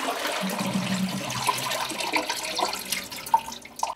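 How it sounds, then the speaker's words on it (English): A toilet flushes with a rushing swirl of water, followed by uneven gurgles as air travels up the pipe, the sound close and alone. "that noise is the sound of air traveling up the pipe to stop the flush"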